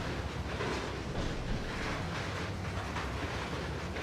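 A train rolls past in the Trainz railroad simulator, a steady, dense broadband rumble with faint clickety-clack texture, heard alone and close, without voices.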